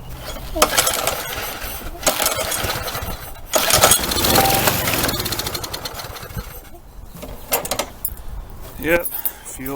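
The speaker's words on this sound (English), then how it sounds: "I just dumped my screws and bolts" Screws and bolts from a Troy-Bilt string mower repair spill out in a loud metallic jangling clatter, several bursts of rattling pieces with voices talking in between.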